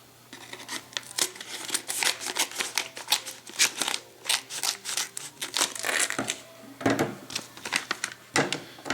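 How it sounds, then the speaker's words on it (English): Scissors snip repeatedly through crinkly plastic food packaging, close up, in quick irregular cuts mixed with rustling of the wrapper. "I'm going to just use some scissors"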